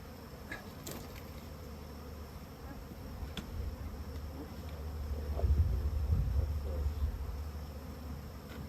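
A honey bee swarm buzzes around a hive during transfer into a permanent hive outdoors, a soft steady drone of many bees with individual bees passing close, swelling a little louder midway.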